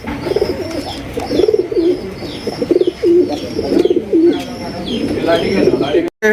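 Large Beauty pigeons coo in repeated soft, throaty bursts close by, overlapping one another in a steady rhythm throughout.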